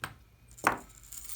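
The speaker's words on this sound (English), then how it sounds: "using your flats, we're going to smash just the crimp bead and then your wire guard one side at a time." A single short metallic crunch as flat pliers crush a crimp bead onto jewelry wire for a layered chain necklace, heard alone at close range in a quiet room.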